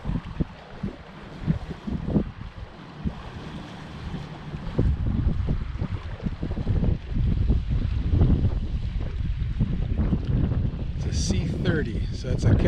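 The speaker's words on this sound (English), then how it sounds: "Oh, you just got a good wind." Steady wind noise and rushing water aboard a sailboat under way, a continuous broadband roar that builds and stays loud, with a few faint voices and knocks mixed in.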